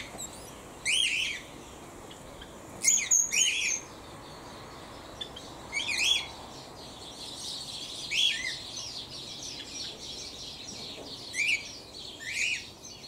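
Sparrows chirp outside an aviary, up in palm and bamboo, giving short bright bursts of tweets every second or two against a quiet background.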